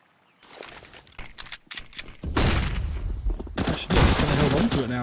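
Rapid bursts of rifle gunfire from a Counter-Strike match on the Inferno map, starting sparse and building into loud, dense volleys in the second half, with a commentator talking over the shooting.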